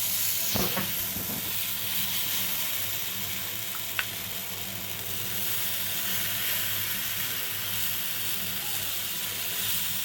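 Carrot paste oats chila batter sizzles and hisses in a hot pan, a close, steady frying crackle with a few clinks of a utensil early on and no talking.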